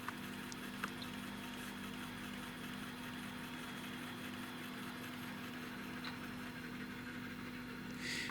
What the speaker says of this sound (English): It's struggling to spin the disk around.